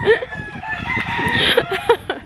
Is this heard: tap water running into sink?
no